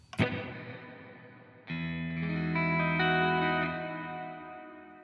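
Electric guitar through AmpliTube 5 with a heavily reverb-saturated tone: a sharp pick attack, then a second strummed chord that blooms into a long, lush, shimmering wash of reverb and chorus, slowly fading, with no talking.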